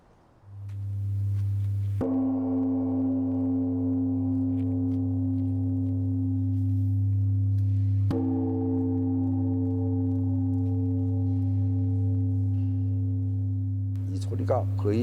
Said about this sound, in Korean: 이 거대한 범종이 품은 울림은 어떨까?